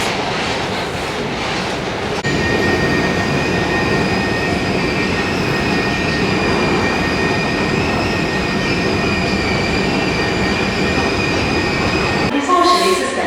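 A London Underground train at Bank Station rumbles loudly and steadily with high-pitched wheel squeal and whine sustained over the roar, and rattling near the end.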